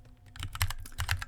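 Quick bursts of computer keyboard typing on a Windows PC, a short run of close, crisp keystrokes with uneven spacing.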